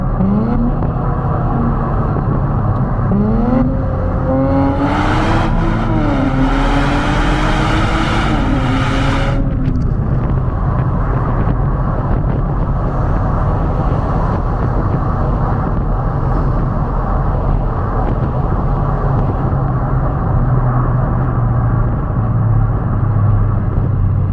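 A Nissan 400Z sports car engine revs hard in a tunnel, its pitch climbing and falling in several loud surges, then settles into a steady, droning cruise with heavy road rumble.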